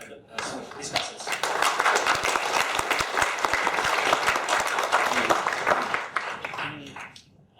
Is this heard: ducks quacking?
no